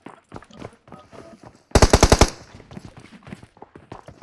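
Automatic gunfire from a BGMI/PUBG battle royale match cracks out as a loud rapid burst of about eight shots lasting half a second, set against quieter game sounds and scattered softer shots.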